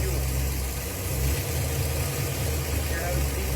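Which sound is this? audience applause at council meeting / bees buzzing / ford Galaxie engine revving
ford Galaxie engine revving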